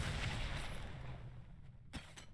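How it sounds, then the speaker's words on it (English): Grenade explosions in the video game Diablo 3 Reaper of Souls sound as a dense, rumbling barrage of booms with a sharp blast near the end, continuous and loud throughout. "Are there enough explosions now?"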